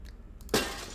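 A single loud glass pane shatters in a video game, a sharp crash with a bright tinkling spray after a quiet lead-in.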